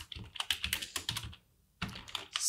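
Rapid, close typing on a computer keyboard comes in dense bursts of clicks, stops briefly, then resumes at the same brisk pace.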